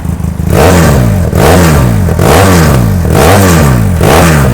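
A 2018 Benelli TRK502 motorcycle fitted with an Akrapovic-style aftermarket exhaust is revved hard close up, rising and falling about four or five times in a loud, rhythmic sequence.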